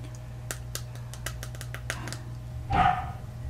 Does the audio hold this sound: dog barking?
yes